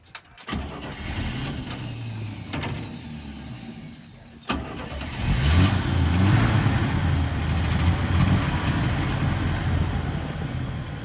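A 1965 Chevy C10 truck engine cranks briefly, stops, then catches and settles into a loud, uneven idle that runs rough and steady close by.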